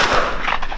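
A single loud, booming shotgun shot close by, outdoors on a windy day while pigeon shooting, its blast rolling briefly before fading.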